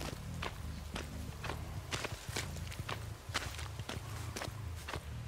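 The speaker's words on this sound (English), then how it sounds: "I thought I heard footsteps." Footsteps in the Dead by Daylight video game, a steady run of crisp thudding steps at moderate loudness over a low droning game score, with no speech.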